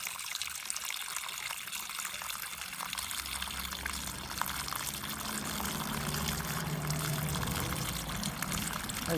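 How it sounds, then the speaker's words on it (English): Water flushes out of a pond filter as a tap runs to purge mucky water, a steady rushing, trickling wash that holds evenly throughout, close and continuous with no talk. "flush out the mucky water"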